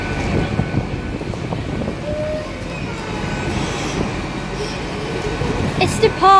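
A new Hitachi class 800 train pulls out of Bath Spa station with a steady rumbling roll under wind noise. A faint squeal rises near the end.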